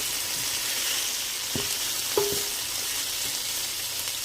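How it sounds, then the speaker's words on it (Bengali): Ginger paste frying in ghee with prawns: a steady, close sizzle fills the clip, with a couple of brief scraping stirs, and no talking. "আর সেই সাথে আমি একটু আদা বাটা দিচ্ছি"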